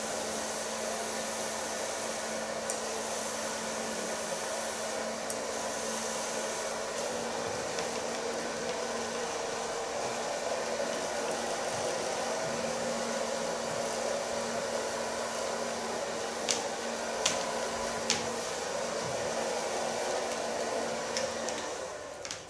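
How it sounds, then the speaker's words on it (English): Hair dryer blowing on a person's hair during a punk makeover styling, a steady loud whooshing drone with a faint hum that holds for over twenty seconds, with a few brief clicks near the end and no talk. "Start blow drying at the longer side"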